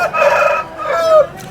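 A rooster at a rooster market in Gokavaram crows once, loud and close, a short two-part call lasting just over a second.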